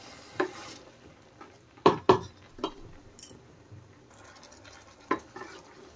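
Chicken and rice being stirred and fried together in a pan, with a few sharp utensil knocks against the pan over a faint background sizzle.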